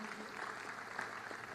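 A large crowd applauds at Nyayo Stadium during a Jamhuri Day 2022 national celebration, a steady, dense wash of distant clapping that holds evenly for the whole stretch without a break.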